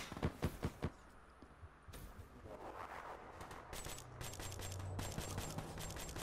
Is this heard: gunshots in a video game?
yes